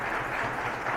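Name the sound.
audience applause at a speech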